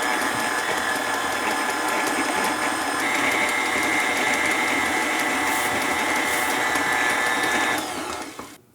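An electric mixer creaming butter for a lemon blueberry loaf, a loud steady motor whir with a slight pitch rise partway through, running alone for about eight seconds before winding down.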